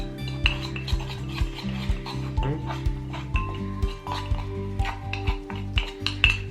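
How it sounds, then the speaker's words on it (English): A spoon stirs mug pizza batter inside a mug, making rhythmic scraping and rubbing strokes with light clinks against the ceramic, close and repeated throughout. "now what you want to do is you want to mix that all together."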